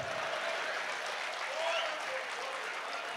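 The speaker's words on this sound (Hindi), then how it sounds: "ताली बजाओ" Audience applause at a Hindi poetry gathering, a steady wash of clapping from a sizeable crowd, fairly even in level throughout.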